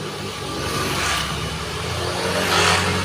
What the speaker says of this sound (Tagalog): Ang bibilis ng mga motor dito